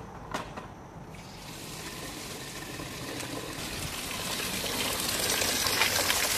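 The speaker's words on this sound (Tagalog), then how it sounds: "haluan natin ng tubig" Water is poured and stirred into three-week fermented kitchen waste fertilizer, a steady gushing and trickling wash that builds gradually louder over several seconds, close by with no talking.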